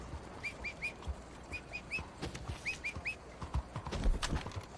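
Horse hooves clip-clopping in a Red Dead Online video game, a steady run of soft, regular hoof beats over light ambience with faint whistle-like chirps above.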